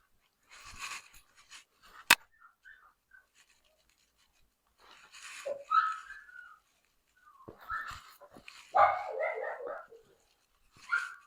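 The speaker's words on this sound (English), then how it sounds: "Pardon the dog." Dog barking and whimpering indoors, several separate bouts of close, fairly loud barks with yelps and whines, broken by short pauses and a sharp click.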